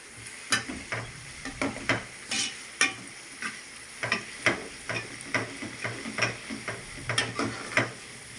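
Curry leaves sizzle in hot oil in a pan for a fish curry, with a steady crackle and a run of rhythmic stirring scrapes and clinks, close by, with no talking.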